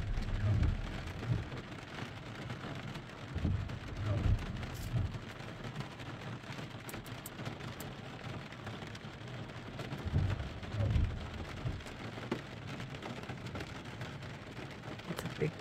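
Steady rain patters on a car during a scenic drive on the Blue Ridge Parkway at a mountain overlook, a continuous hiss with a few low rumbling thumps scattered through.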